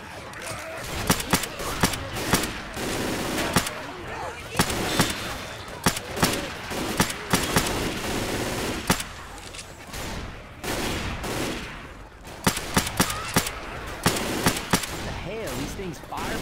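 Rapid bursts of video game gunfire rattle at armored zombies in a custom campaign, sharp repeated shots clustering in volleys with brief pauses, while players talk over the shooting.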